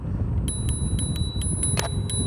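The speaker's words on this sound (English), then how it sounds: "That's what the bell sounds like." Bell on a Troxus T1 electric scooter rung repeatedly, about nine bright metallic pings in quick succession, close and clear over a continuous low rumble of wind and riding noise.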